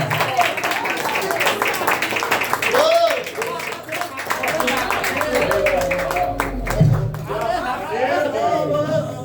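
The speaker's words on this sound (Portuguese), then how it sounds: "Vamos receber nosso irmão com uma salva de palmas" A church congregation claps in a loose burst of applause mixed with crowd chatter and voices, the clapping moderately close and steady before fading into talk.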